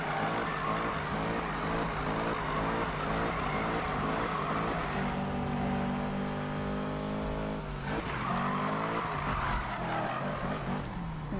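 Car engine in the Need for Speed video game revving and shifting through gears, a loud steady roar with repeated rising pitch sweeps as the car drifts and accelerates, heard up close with no talk.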